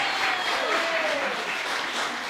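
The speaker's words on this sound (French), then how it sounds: "J'aimerais ça qu'on applaudisse Moisson Esprit" A crowd at a community gathering applauds, a dense, sustained wash of clapping hands that holds steady for a couple of seconds, with a faint whistle or voice gliding through the middle.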